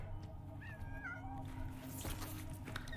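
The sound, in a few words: cat meowing in Death Stranding 2 video game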